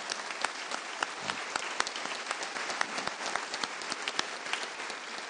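A Phoenix Veterans Day ceremony audience gives a round of applause, many hands clapping in a sustained, even patter at a moderate distance, with no voices over it.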